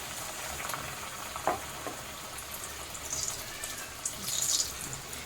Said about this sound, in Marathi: तेलामध्ये चांगले फ्राय करून घ्यायचे आहे